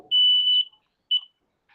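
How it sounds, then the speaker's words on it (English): A household smoke alarm going off, set off by sparklers lit indoors: one long piercing beep followed by a shorter beep, loud and close in an otherwise quiet room. "Oh, your fire alarm's going off."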